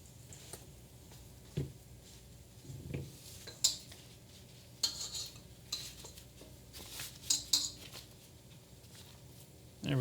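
Eclair filling being scooped into a piping bag, with soft scraping, light clinks of a utensil against a bowl and occasional louder taps, close and fairly quiet.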